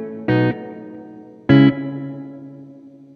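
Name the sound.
electric guitar with spring reverb pedal pushed to maximum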